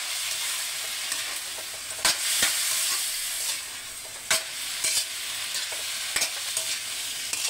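Shrimp sautéing in a pan for a stir-fried bottle gourd dish, giving a moderate, continuous sizzle broken by sharp clicks and taps of stirring utensils.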